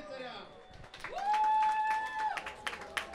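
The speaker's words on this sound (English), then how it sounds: "Big round of applause for both sides" Crowd applause breaks out at an IMCF 2019 medieval combat championship as an armoured fight ends, broad clapping under an announcer's voice and a long sustained whistle-like tone partway through.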